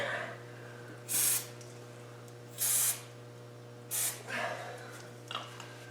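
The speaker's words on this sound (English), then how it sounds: "I'll give them a little shot of a rubber-friendly lubricant." Rubber-friendly lubricant is sprayed onto suspension bushings under a car chassis in four short, sharp hissing bursts with pauses between them, over a steady low hum.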